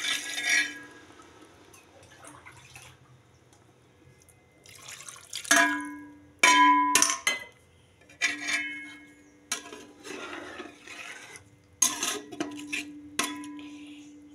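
Water from a small mug poured in several bursts into a pot of raw meat for restaurant-style biryani, splashing and clinking against the metal, with quiet pauses between pours.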